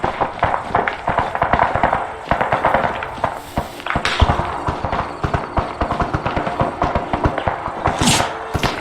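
Gunfire in a war video game cracks overhead in a steady stream of sharp, loud shots and distant thuds, dense and rapid throughout with no pause.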